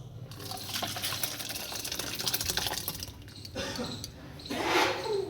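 A cooked, spiced village-style dish finished with garam masala is poured out of a pan, giving a close, continuous wet sliding and gushing sound with a heavier surge near the end.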